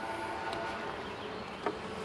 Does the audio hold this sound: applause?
no